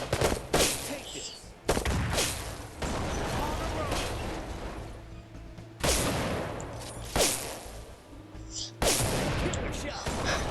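Loud bursts of gunfire in a shooting video game, sharp blasts repeating every second or two over a dense din of battle noise, with voices talking between shots.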